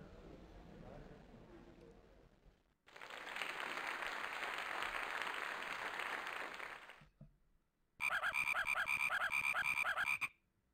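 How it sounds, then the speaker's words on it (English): Croaking, frog-like voices play in the Freddi Fish and the Case of the Missing Kelp Seeds game, first a muffled noisy stretch, then a rapid rattling croak that stops abruptly, over faint game background. "Wait, why do they sound like frogs?"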